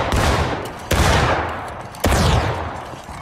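Musket volleys in the War of Rights Civil War battle game: three loud, sharp fusillades about a second apart, each a ragged crackle of many rifles that rolls and decays into a lingering echo, with no talk.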